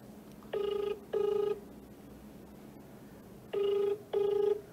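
A telephone rings on an outgoing call, four even electronic ring bursts in two pairs with gaps between them, clear and fairly close against a quiet background.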